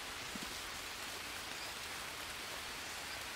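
Jungle rain in the survival video game Green Hell makes a steady, even hiss of rainfall that runs unbroken from start to finish, with no talk over it.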